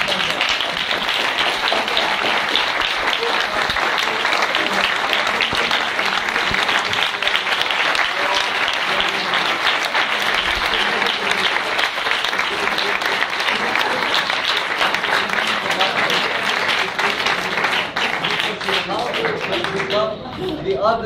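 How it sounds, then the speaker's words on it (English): A hall audience at a theater group's graduation tribute gives sustained, dense applause for the graduates' parents, loud and continuous throughout, with faint voices in the crowd near the end. "please stand up because we need to make a very healthy round of applause."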